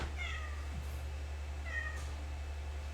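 A house cat meows twice in a quiet indoor room, two short clear calls about a second and a half apart over a steady low hum, with no talking.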